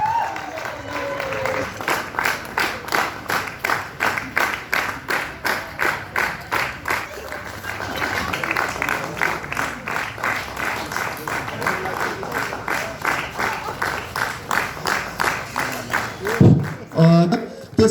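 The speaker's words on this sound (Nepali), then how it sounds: "ताली कम भयो," Rhythmic audience clapping at a Gurkha Samurai Fellowship graduation ceremony, a crowd beating out steady, evenly spaced claps for over fifteen seconds before it breaks off near the end, with some talk mixed in.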